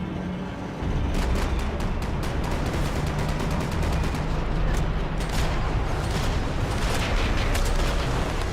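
Rapid gunfire in the Max Payne 3 video game, dense bursts of shots crackling almost nonstop for several seconds, loud and close.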